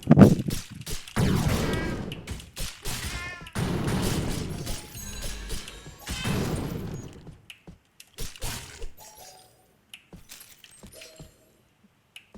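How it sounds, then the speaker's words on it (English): Repeated fireball spell attacks in the game Cat Quest: a run of bursty whooshes and crackling impacts, loud early and thinning out toward the end into sparse, faint hits. "spamming the fireball attack"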